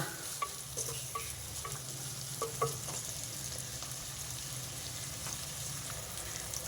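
Onions cooking down with a little salt for a potato curry, stirred in a frying pan: a steady close sizzle with soft scraping strokes of the spoon, no voices.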